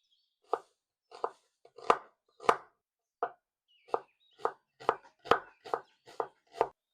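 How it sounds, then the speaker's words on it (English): Knife chopping a whole onion on a board, about a dozen crisp separate chops at an uneven pace, close and clear, with no talking. "we are going to chop up a whole onion and chop up some bacon."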